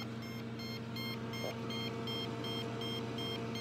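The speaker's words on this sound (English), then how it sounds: "the stronger the reading, the louder the alarm gets" A Dt-1130 EMF detector gives faint, regularly spaced electronic beeps, its alarm pulsing steadily in a quiet room.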